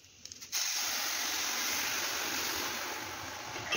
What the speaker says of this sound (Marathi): आता यामध्ये आपण गरम दूध ओतून घेऊया